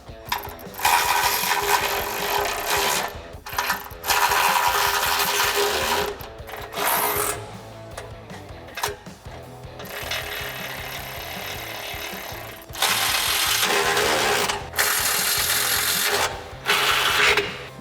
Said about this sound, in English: you're going to go ahead and tighten everything up.